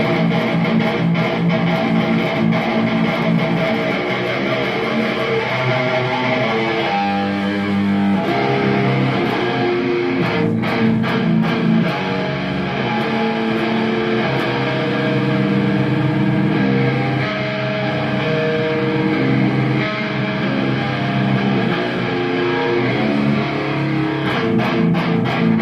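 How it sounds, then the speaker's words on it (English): An electric guitar played through a distortion effect in a practice room rig, dense and loud sustained chords and riffs for about twenty-five seconds with a brief change near eight seconds, no voices over it. "Distortion, and we're going to go show you some of these effects."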